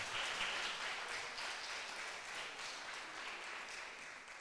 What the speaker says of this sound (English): Well-deserved long round of applause.